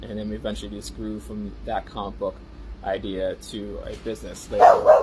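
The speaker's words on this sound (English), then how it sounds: "He was barking because someone walked into the house" A pet dog barking and yipping in a house, a short burst near the end, heard under a person talking steadily.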